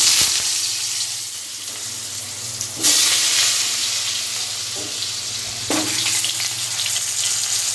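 Potatoes fry in a little hot oil in a wok for a chicken kosha, giving a continuous close sizzle with two sudden louder surges as they are stirred.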